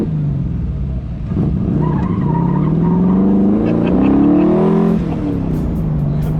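An MGB classic car passes close by, its engine note rising and swelling loudly as it goes, then fading and settling toward the end.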